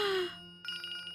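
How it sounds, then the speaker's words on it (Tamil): A phone rings in a scene from a Tamil TV drama. A fading tone gives way to a repeating electronic ringtone with short, evenly pulsed chirps, fairly loud and clear. "எவ்வளவு நேரம் ரிங் போயிட்டு இருக்கு?"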